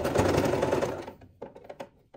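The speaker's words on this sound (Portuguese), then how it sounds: "Eu vou passar uma costura, fechando essa abertura e dando a volta em toda a minha peça." A sewing machine stitches a satin scrunchie seam in a fast, loud run of about a second, then stops, leaving a few faint handling knocks.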